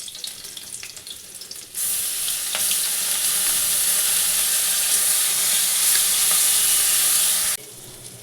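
Garlic dropped into hot oil in a pan for an egg curry, setting off a sudden loud hiss that holds steady for about six seconds, then cuts off abruptly, with quieter pan noise before and after.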